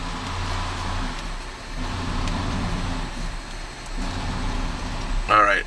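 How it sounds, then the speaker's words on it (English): Rubber tires of a 2011 Cadillac SRX rolling and rubbing on an epoxy-coated showroom floor make a steady low hum with a murmuring background, while a person talks through most of it. "that noise that you're hearing is the rubber tires rubbing against the epoxy flooring"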